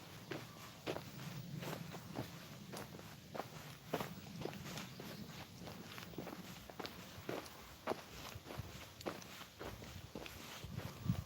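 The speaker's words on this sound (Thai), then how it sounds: "เดี๋ยวเราจะเดินทะลุออกไปว่าจะเป็นอะไรตรงนั้น" Steady footsteps walk outdoors through the grounds of Wat Pa Si Thawon, a Thai forest temple: an even, unhurried stride of soft crunching steps, close to the listener, over a low background rumble.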